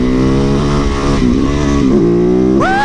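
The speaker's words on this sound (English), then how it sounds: "go head down the street, rip the throttle" Motorcycle engine revved hard as the throttle is ripped open on a street, a loud, close, sustained roar that holds steady then climbs sharply in pitch near the end.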